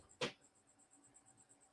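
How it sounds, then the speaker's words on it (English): A cricket chirps indoors in a quiet room, a regular series of faint high-pitched pulses repeating evenly, preceded by one brief sharp knock. "there's a cricket in here for real"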